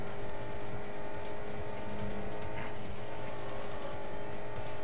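Engine drone of a Mazda RX-8 race car being overtaken in the Import Tuner Challenge racing video game, a steady continuous engine tone that holds at an even loudness throughout, with no voices.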